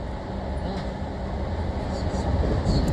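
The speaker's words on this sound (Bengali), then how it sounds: "এখন ট্রেনে উঠে পড়েছি, বসছি" Steady low rumble and rattle of a train carriage running, heard from inside the car after boarding at Old Delhi railway station, continuous and fairly loud throughout with no clear talk.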